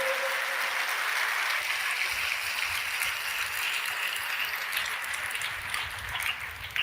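An audience at a Christian worship gathering claps steadily and fairly loudly throughout, a dense sustained wash of applause with no voices over it.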